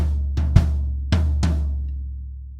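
Four drum strokes on a kit's floor tom and bass drum, played loud and decaying over a low ringing tone, spaced unevenly over a short bar before fading out.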